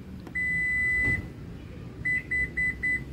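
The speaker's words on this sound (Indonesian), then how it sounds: "kalian tekan dan tahan sampai ada bip 4 kali" A Toyota Innova Zenix power tailgate control gives an electronic beep held for about a second, then after a pause four short, evenly spaced beeps sound close by.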